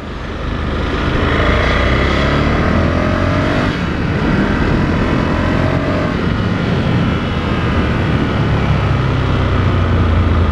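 A Ducati Scrambler 1100 motorcycle fitted with Termignoni exhausts rides past close and loud, its engine droning and pulling steadily with rising and falling pitch, alone without talk.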